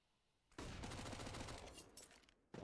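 Gunfire in the video game CS:GO with submachine guns in play: a sudden, loud, dense burst of rapid shots lasting about two seconds, then a brief lull before another shot cuts in.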